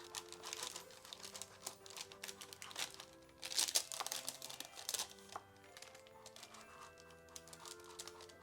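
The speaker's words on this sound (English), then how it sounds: "what I'm going to do is open up the paper" Baking paper being opened up while making mini Christmas tree cakes, close crinkling and rustling in bursts with a louder crackle in the middle, no voices.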